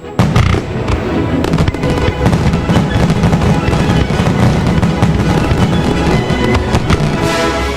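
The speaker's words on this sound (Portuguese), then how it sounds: "A explosão de cores nos fogos de artifício" Fireworks bursting in a dense, continuous barrage of loud crackling pops and booms, with no gaps and no voices.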